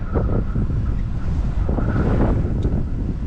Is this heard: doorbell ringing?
no